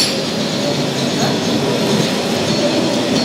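The Bica funicular car in Lisbon's Chiado district approaches with a loud, continuous rumble of rail wheels and faint metallic squeal, close by and steady throughout.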